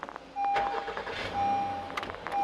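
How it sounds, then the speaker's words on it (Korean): A Honda Odyssey's 3500cc gasoline engine cranks and starts, its rising mechanical roar steady and close, with short electronic chime tones sounding on and off over it. "가솔린 엔진 사운드가 들어오죠"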